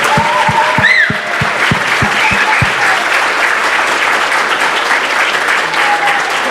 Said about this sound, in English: let's give up an applause to MacLemon